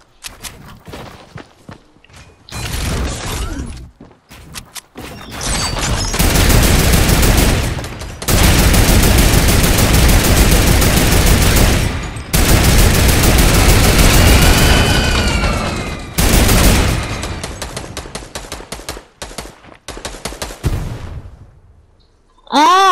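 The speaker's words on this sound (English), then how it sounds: "stop shooting at me, you hit me" Loud bursts of video game gunfire, sustained automatic rattling in long stretches with short gaps, close and heavy, with scattered single shots and brief speech near the end.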